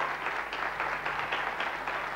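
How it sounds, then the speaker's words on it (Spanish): Studio audience on a 1993 television variety show applauding, a fairly faint, even wash of many hands clapping for about two seconds with no distinct voices. "Por favor, un aplauso muy fuerte."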